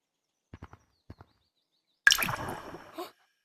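Splashing water in a video game map, first a few soft separate drips, then a sudden louder splash burst that churns on for about a second before cutting off.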